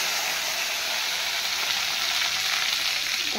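Eggplant, green chillies and other vegetables drop into hot oil and fry with a loud, steady, hissing sizzle that holds constant throughout, close up and without any talking.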